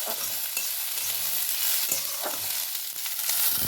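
Chopped green chillies hit a frying pan with onions for prawn chilli, a dense close sizzle running throughout with a few light stirring scrapes, no voices.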